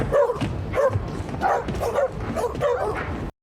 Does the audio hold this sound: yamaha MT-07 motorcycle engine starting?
no